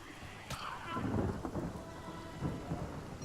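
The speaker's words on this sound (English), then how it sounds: "Let's get Elemental Lightning going here." Casting an Elemental Lightning spell in the video game Divinity: Original Sin brings a sharp crack followed by a rolling rumble of thunder over a steady hiss like rain.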